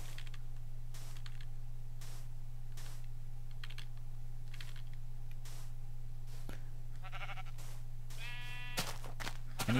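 Minecraft sheep bleating in a video game, a short wavering bleat near the end over steady background hum and repeated keyboard typing clicks throughout.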